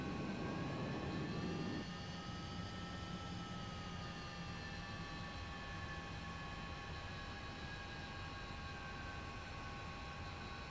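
Jet engine of a Hawker Hunter taxiing at Gatwick in the FSX flight simulator, a steady whine with several sustained high tones, louder rumble at the start then a constant drone throughout, no voices.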